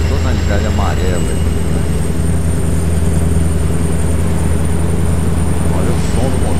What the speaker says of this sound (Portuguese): Olha o som do motor